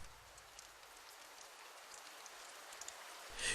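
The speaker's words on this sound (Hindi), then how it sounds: "बारिश हल्की हल्की हो रही थी" Soft, steady patter of light rain, faint and even, with a slightly louder rustle right at the end.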